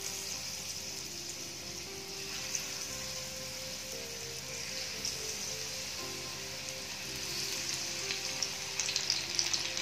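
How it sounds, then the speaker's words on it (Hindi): Buckwheat pakoras sizzle steadily in a pan of hot ghee over a low to medium flame, a dense, continuous crackling hiss with small pops throughout and no voices. "अब हम एक एक करके ये पकोड़े इसमें डाल लेते हैं।"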